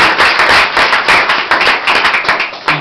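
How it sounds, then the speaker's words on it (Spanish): Loud, close clapping from a church congregation, many hands beating in a steady rhythmic pattern with sharp repeated bursts that run through the whole stretch. "¿Cuánto le viene otro fuerte aplauso al Señor?"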